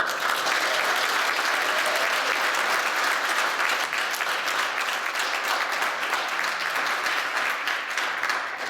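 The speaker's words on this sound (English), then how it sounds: "So applause for the drills." Sustained applause from a large crowd for a JROTC drill team, dense and steady clapping that fills the whole stretch without a break.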